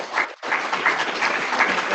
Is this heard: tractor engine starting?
no